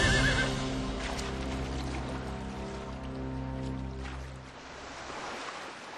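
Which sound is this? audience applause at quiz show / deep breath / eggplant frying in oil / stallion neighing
stallion neighing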